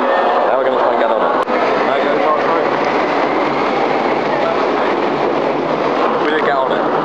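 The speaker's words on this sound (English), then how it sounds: "Here comes our train." A train rumbles loudly into a station with a broad roar and rattling wheels, while people talk over the noise.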